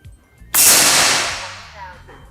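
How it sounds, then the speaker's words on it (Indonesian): One sharp air rifle shot, fired with Hercules pellets at 20 meters while zeroing a scope, cracks out after a brief quiet moment, then a long reverberant tail fades away slowly. "Tembakan yang pertama menggunakan mimis Hercules di jarak 20 meter."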